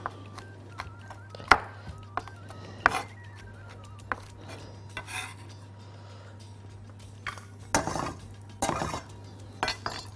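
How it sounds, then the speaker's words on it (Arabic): A kitchen knife cuts garlic cloves into slices on a board, giving a handful of sharp, separate chopping clicks with gaps between them, close and fairly quiet, with no talk over them. "او نقطعه شرايح يعني كده"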